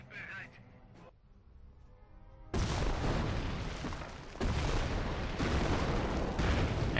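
Heavy gunfire in a WWII strategy video game, aimed at a Stuka dive bomber, breaks in after a quiet opening as loud, dense, continuous bursts that swell again partway through.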